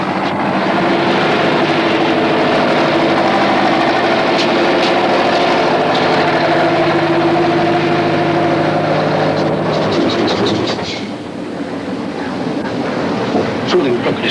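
A dredging boat with a crane runs its engine at sea: a loud, steady droning hum with mechanical tones throughout, easing slightly near the end as some clanking and rattling comes through.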